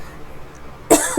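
A man coughs once sharply and close, a loud burst near the end following quiet room tone.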